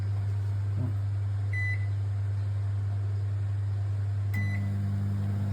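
A microwave oven runs a one-minute program while making popcorn, giving a loud, steady low hum with a faint fan whir, a couple of short high beeps from the keypad, and a slight shift in tone near the end.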